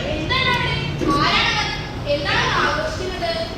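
Crowd clamour during a Sunday school skit performance, with many young voices shouting and cheering together in overlapping waves, loud and close, with a lone voice rising above the din.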